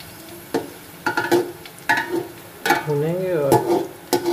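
Golden-brown onions frying with whole garam masala in a pan, a soft sizzle broken by a series of close, distinct scrapes and clinks from stirring.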